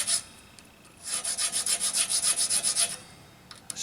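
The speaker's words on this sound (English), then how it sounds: "I've got a 10 thousandths file." A 10 thousandths file rasps back and forth in the nut slot of an Enya X4 Pro guitar, a brief scrape followed by about a dozen rhythmic, close strokes, then a few faint taps.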